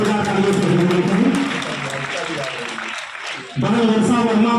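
An audience at a school annual results and prize-giving ceremony applauds loudly and continuously, with voices and tonal sound layered over the clapping and a brief dip before it swells again.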